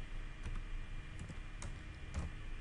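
Soft, quiet keyboard clicks tap out in a few brief bursts, with no voices.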